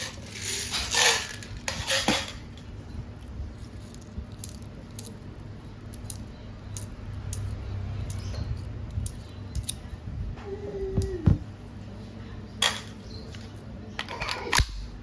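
Metallic clicks and snaps while BBs are loaded into a WE M92 silver airsoft pistol, a scattered series of close, sharp handling clicks with a few louder bursts.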